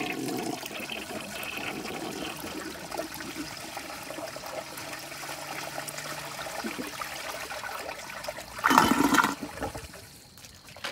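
A 1959 Nationaline Envoy toilet flushes 1.6 gallons of water with face masks tossed in the bowl, giving a long, steady rushing and gurgling swirl. It surges louder near the end, then tapers off into a quiet trickle as the tank refills.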